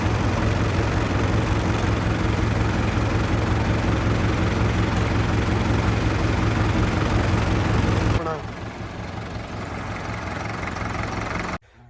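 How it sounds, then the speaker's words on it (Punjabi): A Tiger tractor engine idles loud and close in a farm field, a steady knocking diesel throb. Partway through it drops to a quieter, more distant rumble, then cuts off abruptly. "ਤੇ ਆ ਗਿਆ ਆਪਣਾ ਟਾਈਗਰ ਟਰੈਕਟਰ ਵੀ"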